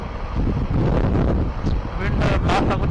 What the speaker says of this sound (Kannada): ಯಾಕಂದ್ರೆ ವಿಂಡ್ ಭಾಳ ಇದೆ